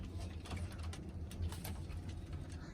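Pigeons kept at an old house give soft, low, rolling coos that repeat in pulses, heard close over a steady hiss of background noise, with a few faint rustles and no speech.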